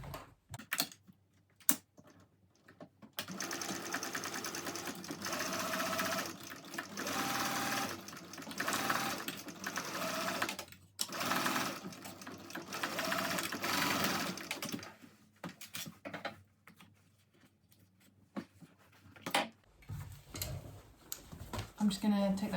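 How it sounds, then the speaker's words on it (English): A sewing machine hums and clatters as it stitches the back panel of a Cornish backpack, running steadily for about sixteen seconds with brief pauses, followed by some handling noise and quiet speech. "now I'm just going to stitch it"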